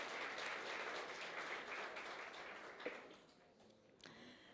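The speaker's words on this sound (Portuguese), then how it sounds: "Vamos aplaudir o Vini em nome de Jesus" A church congregation applauds a singer, a soft wash of clapping that thins and fades out over a few seconds, leaving a couple of faint knocks at the end.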